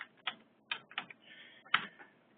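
Sparse keyboard keystrokes tap out a short search term into a search box, a handful of quiet, close clicks in an irregular rhythm within a near-silent room.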